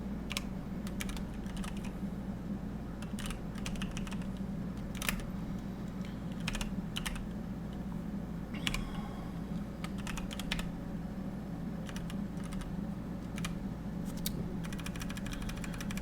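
Typing on a computer keyboard with a slightly offset layout, entering code in Notepad: irregular bursts of close, crisp key clicks over a steady low hum, continuing throughout with no talking.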